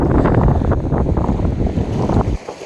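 Strong wind gusts buffet the microphone on a beach on Saint Simons Island, giving a loud, continuous roaring rush that eases slightly near the end, with no voices.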